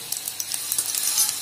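Cumin seeds sizzling in hot ghee for a tempering, a steady close crackle with small pops throughout, no voices.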